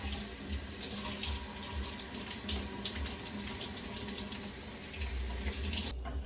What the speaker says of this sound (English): turn on your cold water and run it on the pot like so